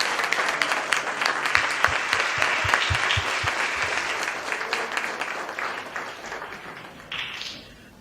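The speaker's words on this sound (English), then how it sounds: "And let's give them a round of applause." A seated audience applauds the Kynard and Adams families at a Books 4 Buddies event, steady clapping holding for about seven seconds before slowly thinning, with a few louder individual claps near the start.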